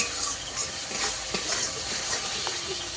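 Spices and chili water frying in oil for a ribbonfish curry hiss and sizzle steadily while a spoon stirs and scrapes the pan in quick strokes, close and continuous.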